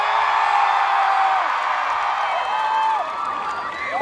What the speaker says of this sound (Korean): 지금 혹시 와 있을 수도 있으니까 함성 한번 지를까요?